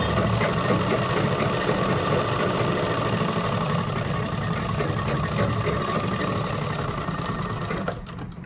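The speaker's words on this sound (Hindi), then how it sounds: "हमें इस तरह से हमें सिलाई लगा लेनी है" A sewing machine stitches kurta fabric cut from a dupatta, running loud and continuous with a rapid needle chatter, then slowing and stopping at the very end, with no voices.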